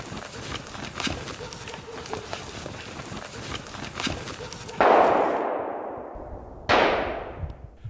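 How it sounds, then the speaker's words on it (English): Gunshots crack out during a driven wild boar hunt outdoors, two loud, sharp reports a couple of seconds apart, each trailing into a fading echo, after a stretch of rustling movement. "Shots ring out and all falls silent"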